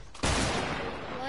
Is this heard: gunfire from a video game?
yes